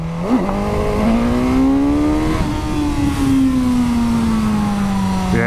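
A Suzuki GSX-S1000 motorcycle with its older engine tuned for Euro 5 accelerates hard on a track, one loud, close, sustained rising engine note that swells and holds for several seconds, then drops and picks up again near the end.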